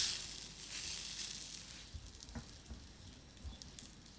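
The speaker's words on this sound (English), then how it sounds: "So I've got a little bit of unrendered fat there. Render that down." Steak fat rendering down in a hot pan gives a steady, soft sizzle, brighter at first and then settling, with a few light knocks and scrapes from the pan.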